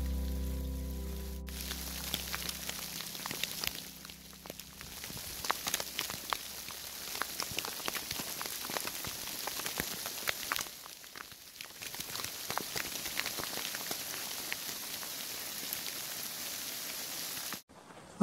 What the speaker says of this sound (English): looks like I couldn't quite beat the rain